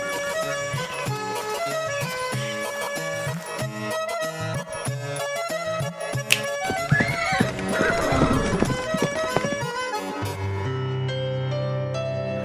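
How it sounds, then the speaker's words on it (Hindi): Horses neigh and clop their hooves in a rising commotion, whinnies cutting over steady stamping and clip-clop, with dense background music running throughout and no talk. "1 घंटे से हमारे ही घोड़े हम लोगों को ही लात मार मार कर जान लेने पर उतारू हैं"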